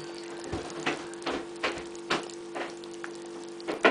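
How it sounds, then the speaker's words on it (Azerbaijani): Apricot jam syrup simmering on a gas stove, giving a soft steady sizzle with a low hum and a few faint repeated bubbling pops or taps, heard alone with no talk. "şərbətimiz qaz sobasının üzərində artıq qaynayır və tumunu ayırdığımız əriyi şərbətin içərisinə əlavə edirik"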